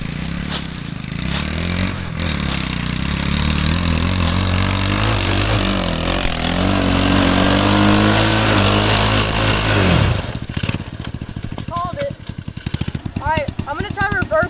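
A mini Jeep go-kart engine roars steadily as it pushes through a pile of wood chips, then cuts to a sputtering, choppy idle with a voice talking over it near the end.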